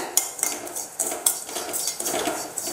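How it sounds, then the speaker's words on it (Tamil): Rava roasting in ghee in a pan, stirred with a spoon, giving close, sharp scrapes and clinks in an irregular rhythm over a soft dry rustle, with no voices. "அந்த நெய் ஸ்மெல்லாம் கலந்து ஒரு வாசம் வர்ற வரைக்கும் நீங்கள் நல்லா வறுத்துக்குங்க"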